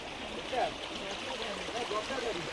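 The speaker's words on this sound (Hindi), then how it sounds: "जटाधारी वाटरफॉल आउ देखा" The Jatadhari waterfall, a steady rushing wash of falling water heard up close, with a person talking briefly over it.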